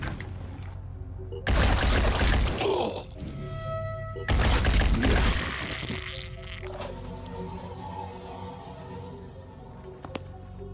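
Two loud bursts of gunfire ring out in the turn-based tactics game Phoenix Point, each a dense crackling blast followed by lingering game ambience and faint effects, with no talk over them.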